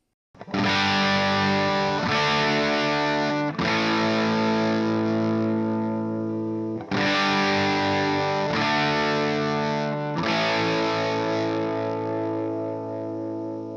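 Heavily distorted electric guitar chords ring out loud and sustained, changing a few times with brief breaks between them, and no one speaking.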